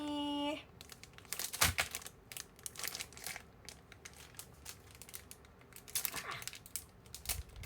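A sheet of stickers being handled close up, with crisp crinkling and rustling bursts scattered irregularly across the clip after a short tonal sound at the start.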